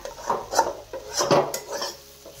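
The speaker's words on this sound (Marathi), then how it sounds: "हे काही असं मिक्स करत राहायचं" A spoon scrapes and clinks against a pan while besan pithla batter is stirred, several close, uneven strokes with metallic taps and no talking.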